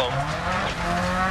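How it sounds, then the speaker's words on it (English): Brief burst of a Subaru Impreza rally car in the Dirt Rally game on a Wales stage, its engine droning loud and steady at high revs with harmonic whine and gravel noise. "Here I drive a Subaru Impreza VRX on the stage Pawn Moor"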